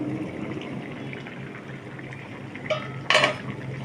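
A cooking pot of potatoes and vegetables bubbles softly before its lid comes off, giving a short metallic clank followed by a brighter clatter near the end; no one speaks.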